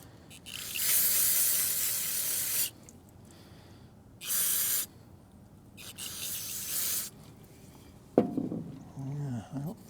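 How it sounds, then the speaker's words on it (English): An aerosol can of brake cleaner sprays into a small engine on a Megamoto 212 or Predator 224 in three sharp hissing bursts, the first longest, close by, followed by someone talking. "Handy dandy can of brake cleaner."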